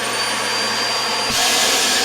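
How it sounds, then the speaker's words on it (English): A built-in road vac in an R-Pod 202 travel trailer runs with a steady, loud broadband whir, and the pitch and intensity jump sharply partway through as the suction kicks up. "a cool thing that comes with this trailer is this road vac"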